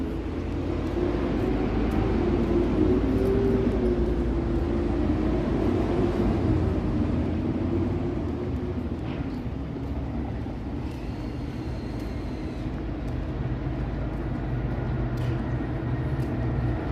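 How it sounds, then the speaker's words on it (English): A train passes a street in Toronto with a long, steady low rumble and droning hum, moderately loud and continuous, mixed with faint city background noise. "Oh, here comes a train. I can hear it."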